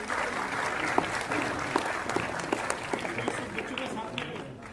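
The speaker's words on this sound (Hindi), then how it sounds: "तालियां भी आपकी जो है ऊंची बजनी चाहिए" A hall audience claps loudly and steadily for a student at a merit felicitation and career guidance ceremony, with voices mixing in over the crowd noise.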